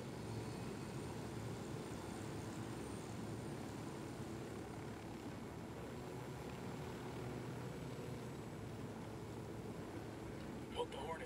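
A helicopter in a video game speedrun hums as a steady, dense rotor-and-engine drone that holds even and unbroken throughout, with a brief tick at the very end.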